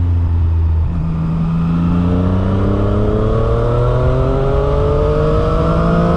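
Triumph Street Triple 765 R three-cylinder motorcycle engine accelerating hard, a loud close rising howl that climbs through the revs with a brief drop at a gear change.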